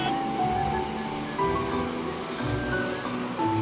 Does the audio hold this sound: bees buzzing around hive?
no